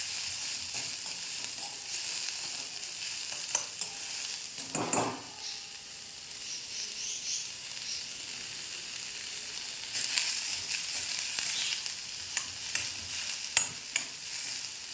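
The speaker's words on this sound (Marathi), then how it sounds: "कांदा छान भाजू द्यायचा आहे." Onions fry in a pan with peppercorns, cloves and cinnamon, making a steady hiss and crackle broken by spatula scrapes and knocks, with a louder burst of stirring near the middle and again toward the end.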